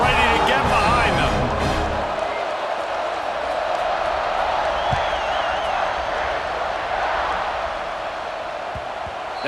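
Football stadium crowd at an Arizona State vs Ohio State college game awaiting kickoff, a steady loud roar of massed voices filling the whole clip, with a broadcast commentator talking over it.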